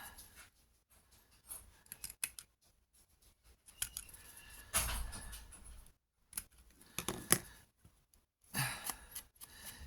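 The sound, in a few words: cutting out paper specimen cards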